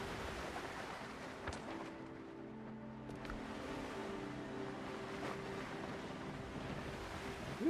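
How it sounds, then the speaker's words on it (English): Ocean waves wash around a sailing ship in the video game Windrose. The surf is a faint, steady rush mixed with soft wind noise, with no speech. "Some visible waves."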